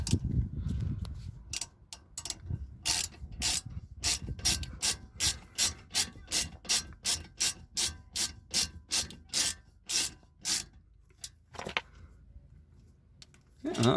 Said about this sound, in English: So we've got my ratchet, since you're just going to tighten everything up.